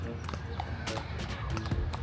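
Horse hooves clip-clop in Baguio City as a few irregular, light taps over a steady background murmur of crowd noise.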